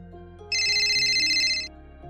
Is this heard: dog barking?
no